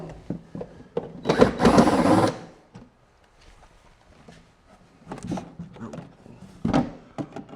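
Screws are driven out of a cheap budget wooden chicken coop, heard as short, close whirring bursts from a driver, one long and loud, the rest briefer and scattered between quieter handling noises.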